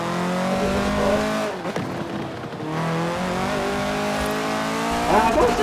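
A KTM X-Bow GT4 race car in Forza Horizon 4 revs loudly and steadily, its engine note dropping briefly mid-clip before climbing again, with a short tire squeal near the end.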